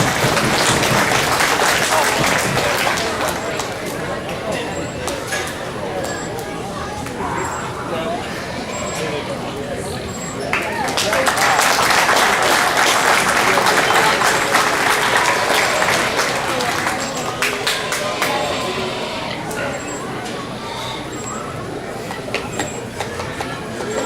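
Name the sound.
fair audience applauding the young hog show exhibitors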